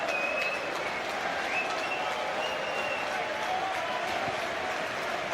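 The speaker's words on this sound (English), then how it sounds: "the near-capacity crowd here today acknowledge the fine work" A near-capacity football crowd at Bournemouth applauds striker Callum Wilson during a Championship match against Middlesbrough: steady, dense clapping and crowd noise that holds at an even level throughout, broad and fairly close, with no break.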